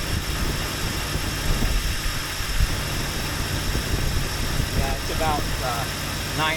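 A vehicle engine idles steadily at roughly 800 to 900 RPM, a continuous low rumble throughout with a person talking over it and a few faint squeaks near the end.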